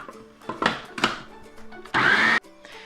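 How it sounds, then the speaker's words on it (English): A food processor blending garlic scape pesto with lemon juice: two short pulses near the start, then a loud, sustained whirring burst of about half a second, with lighter handling clatter in between. "one last go round through the food processor"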